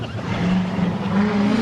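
A drift car launches hard off the line at Agassiz Speedway in British Columbia during a Proam event, a loud sustained engine roar with a rising tone and tire noise, heard from trackside.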